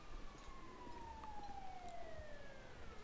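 An ambulance siren in a video game wails faintly in the distance, its pitch sliding slowly downward over a steady low background rumble.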